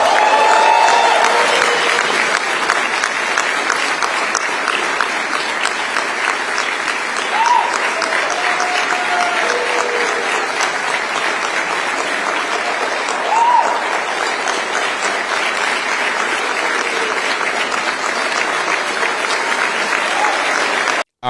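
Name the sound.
audience clapping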